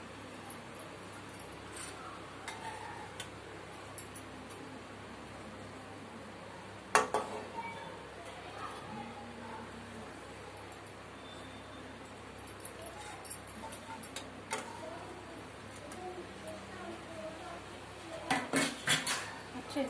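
Fried cashew pieces and other golden-fried bits for a bread sandwich are moved onto a plate, with scattered close metal-on-dish clinks and scrapes over a quiet kitchen background, busier toward the end.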